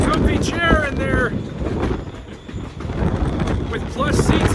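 A historic train runs through open high desert on the way to the Grand Canyon, its rumble mixed with strong wind buffeting the microphone, loud and continuous, with a rider's voice talking over it.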